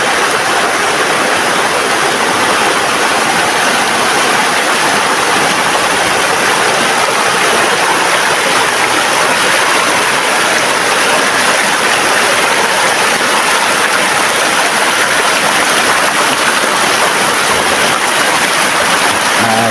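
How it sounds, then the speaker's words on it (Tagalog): Mountain spring water flows steadily and loudly at close range, a continuous rushing wash with no pauses and no voices over it. "Marinig mo yung agos lang ng tubig."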